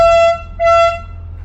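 Two short blasts from a narrowboat horn on a canal, tonal and fairly loud, the second following after a brief pause, with low engine rumble underneath.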